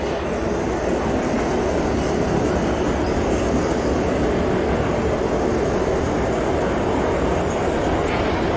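A New York City Subway R142A train running in the OpenBVE simulator, a loud continuous low rumble and roar of motors and wheels on track, steady from start to finish with no talking.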